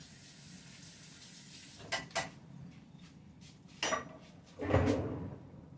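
Water from a kitchen tap runs briefly while something is rinsed off during home cooking of chili, with a few clatters of a dish or utensil against the sink in quiet surroundings.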